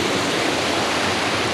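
A river runs at normal level through Vermont countryside. Its flow makes a steady, dense rush that stays even throughout, with no voices.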